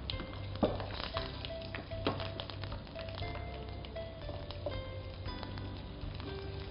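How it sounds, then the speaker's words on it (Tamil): Ground black pepper, garlic and shallots frying in oil for chilli paneer, a soft continuous sizzle with scattered pops and stirring clicks, fairly faint and with no voices. "பிளாக் பெப்பர் அரைச்சி வச்சுருக்கிறத வந்து போட்டுக்கிறோம். அது கூட பூண்டு உரிச்சு வச்சுருக்கிற பூண்டு, அது கூட சின்ன வெங்காயம்"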